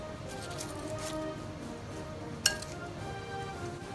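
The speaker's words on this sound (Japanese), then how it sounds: "じゃあ、お皿に盛り付けます。" A single sharp clink of a dish or utensil against a plate, brief and close, over a steady low background hum.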